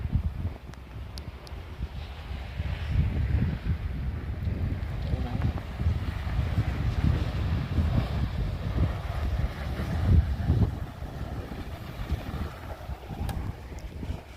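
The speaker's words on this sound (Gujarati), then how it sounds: "અને હજી પણ ઠંડો ઠંડો પવન છે." Cold wind gusts during a Canadian snowstorm, a steady low roar buffeting the microphone throughout, with no clear gaps.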